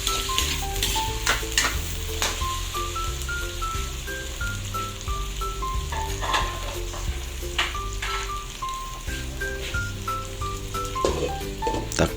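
Chicken cooking in a hot pan for pancit gives a loud, continuous frying sizzle with crackles, heard close up under a light melodic background tune and with no talking.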